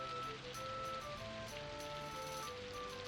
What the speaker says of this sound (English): Wait until the rain stops.